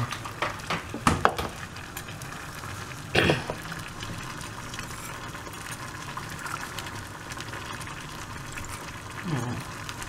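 Mustard seeds crackle and splutter in hot oil while tempering for Tamil pattani sundal, a continuous fizzing sizzle broken by a few sharp clanks of a pan or utensil near the start and end.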